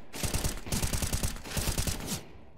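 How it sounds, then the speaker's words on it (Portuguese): Rapid automatic gunfire from the video game Counter-Strike: Global Offensive during a pro match between Godsent and ATK at IEM Dallas, two loud bursts of fast rhythmic shots separated by a brief gap, no talk over them. "Três caras atirando nele, ele não morria"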